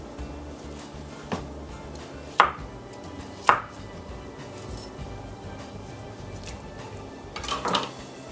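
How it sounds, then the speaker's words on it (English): A knife cuts down the wishbone of a chicken while it is butchered, with a few sharp, separate crunching cuts and taps against a cutting board over a quiet background. "cut right down the wishbone"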